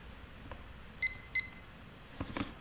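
Kitchen-style timer being set: two short, clean electronic beeps about a third of a second apart, faint against quiet room noise, followed by a few soft handling clicks and rustles.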